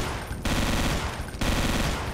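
A powerful, fast-firing gun in Brutal Doom hammers out dense, continuous automatic fire, loud and close, with a brief gap between two sustained bursts.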